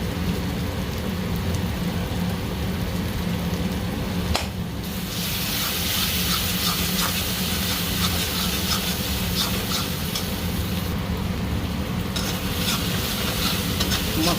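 A spice paste of garam masala powder with coconut and poppy seed paste sizzles in oil as it is stirred, a dense continuous crackling fry close by, with scraping stirs and brief dips in intensity.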